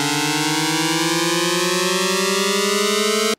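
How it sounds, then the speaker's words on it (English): A smooth synthetic riser tone, pitched up five semitones, glides steadily upward in pitch for a few seconds, loud and buzzy, then cuts off abruptly. "you need to have pitched your sound up five semitones as well to give it a similar rising sound"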